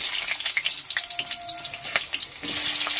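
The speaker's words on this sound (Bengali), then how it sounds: "আমি একটু গ্যাসটাকে আস্তে দিয়ে এই পেঁয়াজগুলো তুলে দিচ্ছি" Onions sizzling in hot oil for a mutton curry, a close, crackling fry with bright popping bursts that swells louder near the end.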